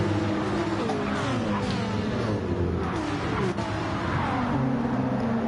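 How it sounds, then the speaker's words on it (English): Two Porsche race cars run nose to tail at Bathurst, a continuous loud engine drone with shifting pitch, close and steady throughout. "Chuck and Wadru, the two Porsches following each other."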